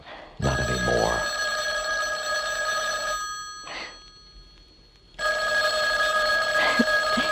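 A telephone bell in a Halloween horror radio drama rings loud and close in sustained bursts, falls quiet briefly after about three seconds, then resumes ringing.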